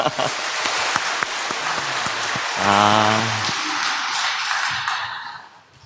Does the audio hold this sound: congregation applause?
yes